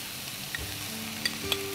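Cooked chana dal, seasoned with salt and turmeric, stirred into frying zucchini flesh in a pan, giving a faint steady sizzle with a few soft, brief scrapes and taps.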